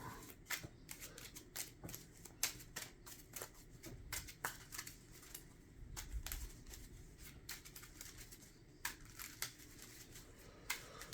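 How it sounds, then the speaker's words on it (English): Cards being shuffled in repeated bursts of crisp riffling and slapping, close and fairly quiet, with short pauses between shuffles. "we got to shuffle his deck"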